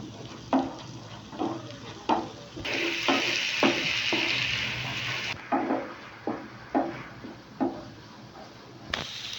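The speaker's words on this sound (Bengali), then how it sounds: "ভালো করে আমি মশলাটা কষিয়ে নেব" Spices such as Kashmiri chilli, cumin powder, turmeric, salt and sugar being sautéed in a pan, with a sizzle under a run of regular spoon-stirring knocks and scrapes.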